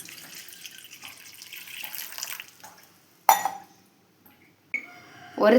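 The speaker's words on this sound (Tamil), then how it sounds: "ஒரு கிளாஸ் தண்ணி ஊற்றி ஊற விடணும்" A glass of water pours and splashes into a bowl of tamarind in short bursts, with faint clinks and quiet stretches between pours.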